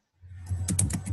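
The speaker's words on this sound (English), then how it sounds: "here's someone typing." Keystrokes on a computer keyboard, a quick run of close, crisp clicks over a low steady hum, fairly quiet and without talk.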